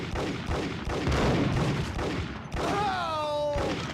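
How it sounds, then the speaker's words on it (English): Rifle gunfire in the PlayStation game Max Payne 1: a dense run of overlapping shots and thuds in the first half, followed by a descending ringing tone as the firing stops. "the rifle is not amazing for this long range when they can just shoot back at me"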